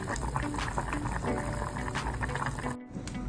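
Tinola soup with chayote simmers in a pot with a steady, dense bubbling hiss that runs throughout, broken by one brief dropout near the end.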